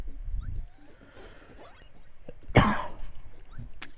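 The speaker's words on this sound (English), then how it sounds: "I just sneezed, sorry about that. Or coughed, I guess." A single sharp cough bursts out midway through quiet background noise, fairly close and loud.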